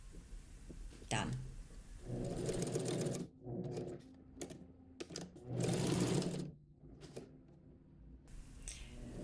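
An overlocker serging the neckline edge of a blouse, close and fairly quiet, running in short bursts of rapid stitching with pauses and a few clicks between them.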